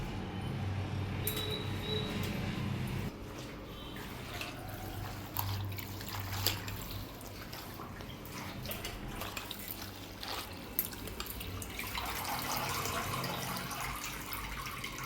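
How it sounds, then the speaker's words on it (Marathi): Greens for a Maharashtrian tandulja (amaranth) bhaji being rinsed in water in a home kitchen, giving a steady wash of splashing and dripping with no talk. "आता हिला धुवून घेऊया आपण। दोन पाण्यातून चांगली धुवून 2-3 पाण्यातून घ्यायची।"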